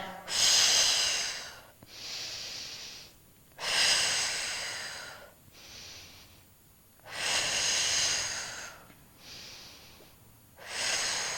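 Slow, deep breaths during a Pilates abdominal and glute exercise, with audible inhales and exhales alternating steadily in long rounds, close and clear, with no talking.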